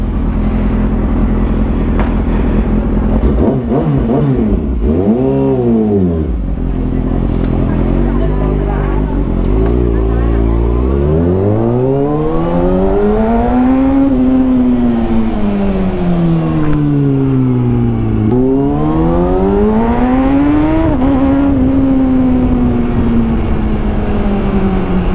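A Kawasaki Ninja ZX motorcycle engine revs while riding, loud and close, its pitch sweeping up and down through repeated accelerations and gear changes over a constant roar, with a voice occasionally under it.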